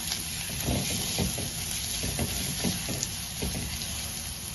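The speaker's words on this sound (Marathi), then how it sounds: "तेलात परतवूया, जरा लालसर होऊ द्यायचा कांदा।" Onion frying in oil for peas pulao, a close, steady hissing sizzle with soft stirring scrapes rising through it every so often, no voices.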